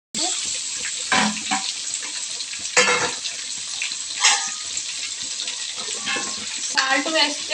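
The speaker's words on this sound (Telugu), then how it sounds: "ఇవి బాగా వేగిన తర్వాత టమాటాలు సన్నగా కోసుకున్న టమాటాలు వేసి" Sliced tomatoes going into a hot frying pan with curry leaves already frying, giving a steady close sizzle broken by a few louder bursts of splatter and stirring.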